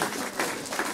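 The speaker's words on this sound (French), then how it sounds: "Vous pouvez applaudir." A church congregation applauds after a baptism service, a brief burst of dense clapping heard close and fairly loud.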